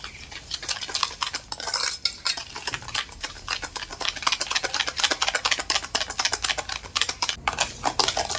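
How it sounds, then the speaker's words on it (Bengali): A hand mixer beats one egg with half a bowl of sugar, making a dense, rapid clatter of beaters against the bowl that runs continuously and close without a break, with no talking. "চিনি আর ডিমটা কিন্তু ভালো করে মিক্স করে নেবো একটা হ্যান্ড মিক্সের সাহায্যে"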